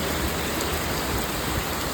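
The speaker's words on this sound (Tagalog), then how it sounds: "Lakas ng ulan." Heavy typhoon rain roars in a dense, unbroken wash of noise, close and loud from start to finish.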